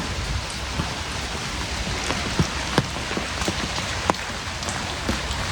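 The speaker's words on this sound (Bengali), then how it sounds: "অনেক বৃষ্টি হচ্ছে।" Heavy rain pours down steadily in a dense, even hiss, with scattered louder drops spattering on nearby surfaces.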